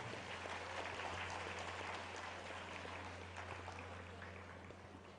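An audience at a college graduation ceremony applauds rank holders, a steady wash of clapping that fades slightly toward the end, heard at a distance under a low hum.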